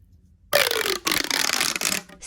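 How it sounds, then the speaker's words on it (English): A loud fidget tube toy gives a sharp burst of stretching, rattling noise after a brief quiet start, broken by a short pause and then resuming, close and alone with no talk. "Loud tube."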